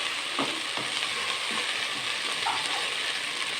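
Fried minced keema being stirred into masala in a pan, a soft continuous frying hiss with occasional light scrapes and clicks of a spoon, fairly quiet and even.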